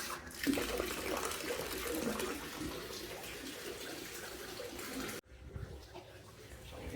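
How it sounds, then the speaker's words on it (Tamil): Water gushes steadily from a tap for several seconds, a close, hissing splash that suddenly cuts off. "தண்ணி இருக்கா லைட்டாக திறந்து விடு"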